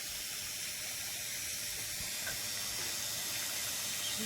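Water running into a tank in Mandvi makes a continuous, fairly quiet hiss and rush with no pauses or voices.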